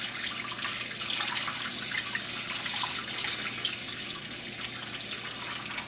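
Water pours steadily onto a plate in a fish tank with a continuous splashing rush, fairly close and unbroken, with no talking.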